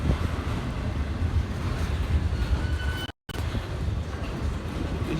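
A train rumbles through Seneca Yard at steady volume, wheels and cars grinding along with wind buffeting the microphone and a brief dropout partway.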